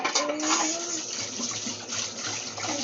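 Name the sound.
washing hands under running tap water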